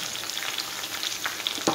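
Food frying in a pan with a little salt added, a steady close sizzle with soft crackles and a brief stir near the end, no voices.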